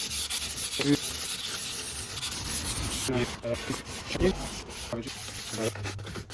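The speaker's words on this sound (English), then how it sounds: "just finishing the cabinet with 240 sandpaper, and then we're gonna do 400" Fine-grit 240 sandpaper rubs over an antique oak desk cabinet in steady back-and-forth strokes, a close, continuous hissing scrape with rhythmic pulses and no talking.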